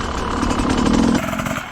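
An enduro motorcycle engine runs nearby at a steady, rough idle, then its pitch drops slightly toward the end.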